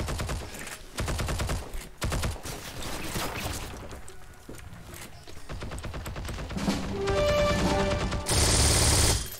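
Bursts of MG42 machine gun fire in the Heroes and Generals video game, loud, close and sustained, with rapid clustered shots running almost the whole time.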